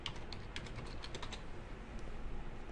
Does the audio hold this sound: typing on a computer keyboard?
yes